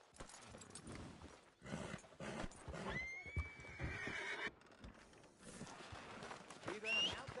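A horse in a PS4 video game lets out a drawn-out whinny amid clip-clopping hooves and busy in-game sounds, with voices talking over the scene.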